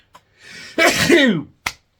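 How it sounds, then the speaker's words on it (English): A single close sneeze, a sharp breathy intake building into a loud burst, followed by a brief small exhale. "I'm going to sneeze."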